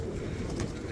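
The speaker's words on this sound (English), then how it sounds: "Everyone is feeding the white pigeons of Mazar." White pigeons being fed at the shrine in Mazar, Afghanistan, with soft cooing and fluttering over a steady crowd murmur in the background.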